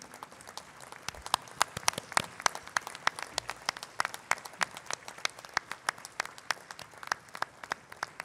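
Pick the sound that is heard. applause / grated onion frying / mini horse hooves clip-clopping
applause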